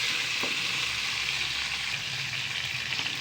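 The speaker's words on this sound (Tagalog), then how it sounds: "Gisa na natin ang ating kamatis." Tomatoes sauté in a hot pan for a Filipino upo dish, giving a steady, close, hissing sizzle that holds evenly throughout with no talk.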